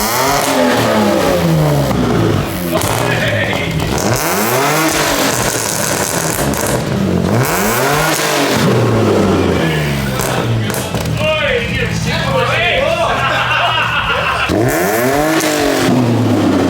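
A 500hp V8 car engine revs hard again and again in loud, rising-and-falling sweeps, nearly continuous and close, with a few spoken remarks passing over it.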